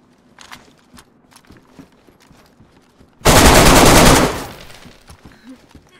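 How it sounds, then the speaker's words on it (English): A loud, dense burst of automatic gunfire from the video game DayZ rips out for about a second, standing well above the faint clicks and footsteps that surround it. "Someone's getting shot at."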